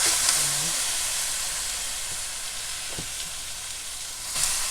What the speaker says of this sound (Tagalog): Idadagdag po natin ang ating chicken dito sa tagiliran para maprito rin po siya.